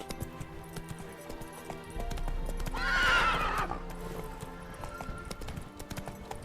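Roach, Geralt's horse in The Witcher 3, clip-clops along at a steady rhythm, then lets out a loud, drawn-out neigh midway before the hoofbeats carry on beneath faint game sounds.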